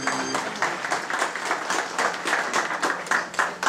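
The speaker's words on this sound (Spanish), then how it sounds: "Yo quiero mi fuerte las palmas, por favor, para el papacito del niño bautizado" Guests at a baptism party clap for the baptized child's father, a steady round of hand claps of mixed density that holds for several seconds, close and lively.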